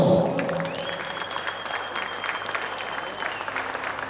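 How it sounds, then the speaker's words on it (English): Crowd applause for two futsal teams at a National Futsal League indoor match, a steady wash of clapping from a hall audience lasting the full stretch, fairly even in loudness with a faint tone running underneath. "let's give the two teams a big round of applause"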